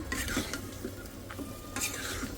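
Fish curry stirred in a pan with salt, turmeric and chili already added, soft scraping and wet stirring strokes repeating steadily at close range over a low background hum.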